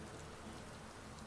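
Steady rain falls in Animal Crossing New Horizons, a dense, even hiss of patter at constant level with no talking.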